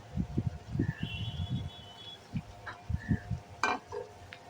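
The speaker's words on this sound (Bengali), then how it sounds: "সবজিটাকেও আমরা কষিয়ে নেব" Vegetables with fresh coriander leaves are stirred and fried in a pan for a small-fish chorchori, making soft repeated spatula scrapes and clinks over a faint sizzle.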